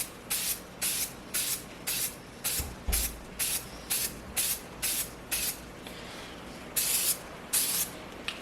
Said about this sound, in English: let's just give it a generous spray